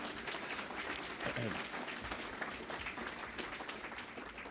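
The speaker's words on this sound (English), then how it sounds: "So please give the mayor a round of applause again." An audience at a gentrification summit conference applauds the mayor with sustained, even clapping from a large crowd, heard at moderate distance.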